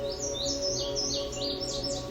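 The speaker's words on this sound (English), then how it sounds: "The song of the male indigo bunting is lengthy and complex" A male indigo bunting sings a lengthy, complex song of bright paired chirps and descending warbled notes, clear and close against a steady low background hum.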